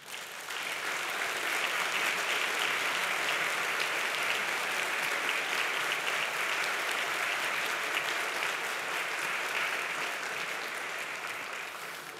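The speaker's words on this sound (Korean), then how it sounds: "성도님들께서는 박수로 환영해 주시기 바랍니다" A church congregation applauds to welcome visiting guests from a Mongolian pastors' association during an afternoon worship service, a steady, full burst of clapping from many hands that sustains for about twelve seconds without speech.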